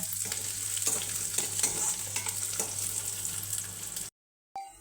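Peanuts frying with green chillies in an oil tempering for vermicelli upma: a close, steady sizzle broken by repeated scraping stirs of a spoon, then a brief silent gap near the end.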